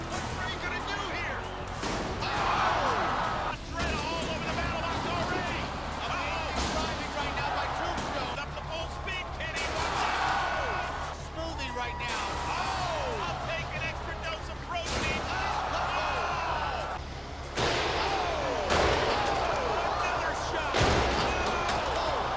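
The BattleBots combat robot Tombstone's spinning metal bar smashing opponents in the arena, loud repeated metallic slams and crashes spaced through a roaring crowd and busy mix, with a commentator talking over them.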